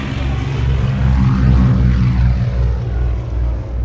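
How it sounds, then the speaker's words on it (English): A twin-engined Avro Anson propeller aircraft drones loudly and close by, its engines giving a steady, throbbing rumble with a faint rising whoosh as it passes, no voices over it. "this twin-engined aircraft"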